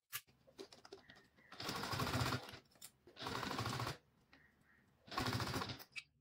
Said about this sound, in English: sew the long edges first before sewing the rounded corners